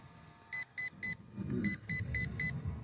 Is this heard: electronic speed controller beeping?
yes